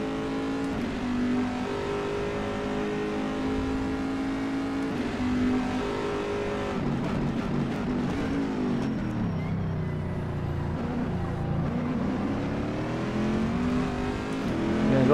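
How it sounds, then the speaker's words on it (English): The engine of a Corvette C7.R race car in the rFactor 2 racing game at Sebring roars steadily, with its pitch dipping and climbing through gear changes and corners, loud and continuous with no talk. "let you guys listen to the engine sounds"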